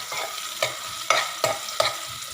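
Two onions frying in a pan for mutton stew sizzle under a steady hiss, with four spoon scrapes sweeping through at roughly even intervals, close and without voices.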